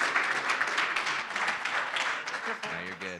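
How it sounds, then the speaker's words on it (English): Audience applause at a Bitcoin conference in Medellín, a dense wash of clapping filling the room for about three seconds, with voices talking over it near the end. "Give them a round of applause to start it off."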